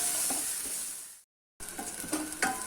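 Onions and dried chillies sauté with asafoetida in a pan for horse gram rasam, giving a close, steady sizzle with stirring scrapes, cut off briefly by a moment of silence before resuming.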